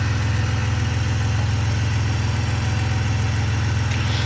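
Car engine idles steadily after a new radiator install, an even, droning rumble with a regular low pulse, close and constant from start to finish.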